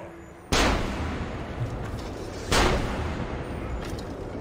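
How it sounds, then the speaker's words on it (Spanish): Two loud, booming gunshots in the video game Assassin's Creed: Revelations, about two seconds apart, each trailing into a rumbling echo over steady background noise. "Pego dos tiros aquí y no se entera nadie"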